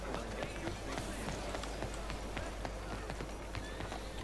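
A horse gallops steadily in the video game Red Dead Online, its rapid hoofbeats running continuously through dense game ambience while a person talks over it.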